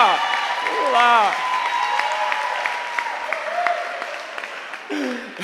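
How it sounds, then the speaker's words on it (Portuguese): Round of applause and cheering from an audience at a live event for a woman brought on stage, clapping under loud voices and excited shouts that run throughout. "Salva de palmas para ela, gente."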